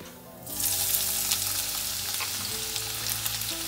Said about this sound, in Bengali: পেঁয়াজটাকে গ্যাসের ফ্লেমটা লোতে রেখে পেঁয়াজটাকে 5 মিনিটের মতন ভেজে নেব